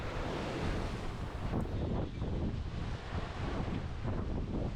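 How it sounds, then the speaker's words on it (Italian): Ocean waves and strong wind during a sailing crossing of the English Channel toward La Coruña, with heavy rushing gusts buffeting the microphone and water sloshing against the hull throughout. "The seas were getting bigger"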